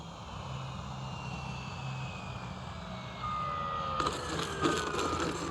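A FlexMamba 10 G2 RC airplane flies in sport mode, its motor whine sliding in pitch as it passes at moderate distance, with a few sharp clattering knocks near the end.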